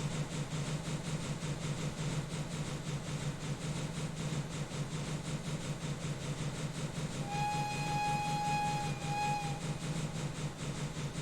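A video game train rumbles steadily with reverberant echo inside a tunnel, and a long horn sounds twice near the end over the continuous rolling noise.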